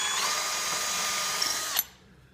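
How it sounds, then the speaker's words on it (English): Power drill bores into an old bench under restoration, a steady high whine running close and loud for nearly two seconds before cutting off abruptly. "Okay, and we'll drill it."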